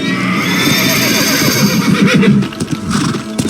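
A horse in Red Dead Redemption whinnies in a long, shrill, wavering call, loud and close, followed by a few soft snorts and hoof sounds.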